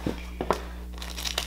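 A taped package holding a glueless wig is slit and slid open, giving brief crinkling and tearing rustles in a few short bursts over a steady low hum, close by and without speech.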